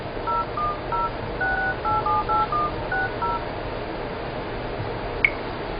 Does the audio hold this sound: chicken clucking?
no